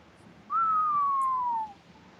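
A storyteller imitates a low whistle with his own mouth, a single steady tone that glides slowly downward for about a second, clear and close with no talk over it.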